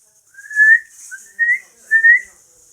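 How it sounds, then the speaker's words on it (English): A loud human whistle rings out in three clear, close bursts, each rising to a sustained tone, with short pauses between them and no talk. "Patag whistled loudly."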